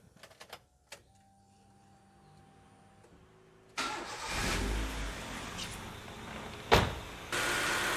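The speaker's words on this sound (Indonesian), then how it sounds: "Oke, saya start mesin terlebih dahulu ya" A car engine cranks and catches after a few faint clicks, then settles into a steady close idle with a brief louder burst, during radiator coolant draining and refilling work.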